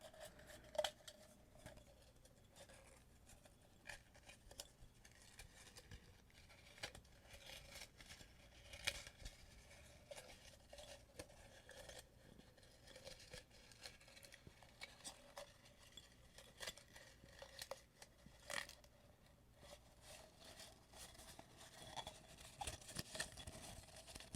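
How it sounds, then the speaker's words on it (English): Soft, close rustling and crinkling of paper, with occasional light taps and handling noises scattered through a quiet stretch. "I hope you like the paper sounds."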